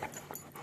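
A Labrador pants in short, quick, faint breaths up close in a quiet room.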